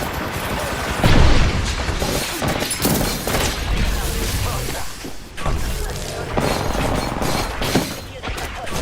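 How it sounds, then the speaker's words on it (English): Gunfire and heavy impacts in a video game, with loud booms and crashing shots arriving in dense bursts, a strong blast near the start, continuing chaotic firing throughout and voices talking faintly beneath. "Shooting at me."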